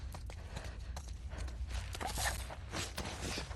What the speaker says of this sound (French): c'est des bruits de pas